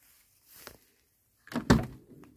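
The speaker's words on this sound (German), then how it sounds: "Aber die Tür öffnet noch." A car door, on a vehicle wrecked in an accident, opens with a faint click and then a louder close thunk and rattle, near and brief, with no talk.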